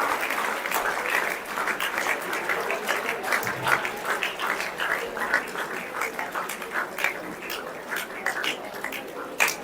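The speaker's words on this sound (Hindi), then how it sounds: "तालियों में बिल्कुल कमी न रखें" Applause from an audience at a school farewell and prize distribution program, sustained dense clapping of many hands that carries on for the whole stretch at moderate, even strength.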